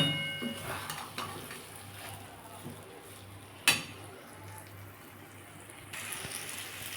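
Taro stems (maan kochu) fry quietly in a pan with a faint, steady sizzle, occasional light utensil scrapes and one sharp metallic clank midway.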